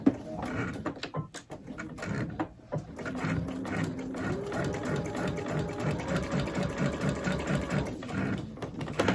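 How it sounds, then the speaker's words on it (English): A sewing machine stitches a seam across paper-pieced quilt pieces using a 1.2 mm stitch, humming in a close, steady rapid rhythm for several seconds with a slight stutter near the start. "So I'm going to start right at the end, as close as I can get to the end, and then sew across."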